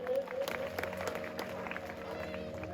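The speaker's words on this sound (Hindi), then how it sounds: "जोरदार ताली बजा दें।" A crowd claps at a Ram Katha gathering in a village, a dense, steady patter of many hands with voices mixed in underneath, fairly close and continuous.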